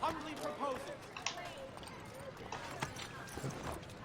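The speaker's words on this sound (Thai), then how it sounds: "ขี่ม้าไปไหนเนี่ย" Hooves clip-clop at a steady trot as a horse is ridden in Assassin's Creed III, the rhythmic footfalls heard under a voice talking over the game.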